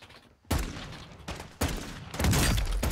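Bursts of gunfire go off in the video game Warzone, loud and sudden. Sharp onsets lead into sustained rapid fire and echoing blasts across the stretch, with no talk over them.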